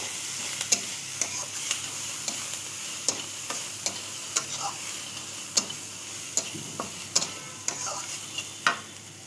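Eggplant slices frying in oil in a pan, heard as a low steady sizzle with regular sharp ticks and clicks of turning or stirring, fairly faint and evenly paced.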